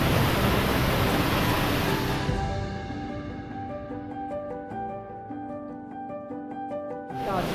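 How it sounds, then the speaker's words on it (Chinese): Rushing water roars loud and broadband from the upper stream of Dazhi Waterfall in Liugui, Kaohsiung, for about two seconds. It then drops away beneath steady tonal, music-like sounds. "大智瀑布"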